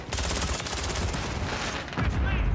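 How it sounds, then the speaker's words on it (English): Rapid, sustained SMG fire from an ISO 9mm in Call of Duty MW3 Season 6 multiplayer, a dense, loud burst of overlapping shots running continuously with no pauses. "Freaking nasty SMG right here."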